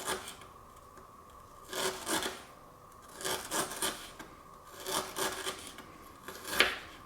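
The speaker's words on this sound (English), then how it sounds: "So I'm just cutting this extremely thin." A knife slices ginger extremely thin on a cutting board, giving a series of short, close rasping strokes in small bursts with quiet gaps between.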